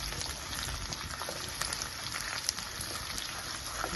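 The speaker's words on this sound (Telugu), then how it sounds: "చిన్నుల్లిపాయ రెబ్బలు నలగొట్టి పెట్టుకున్నాను, అవి కూడా వేస్తున్నాను" Crushed small onion cloves fry in a pan of hot oil with a soft, steady crackling sizzle, faint and even throughout with a few small pops and no talk.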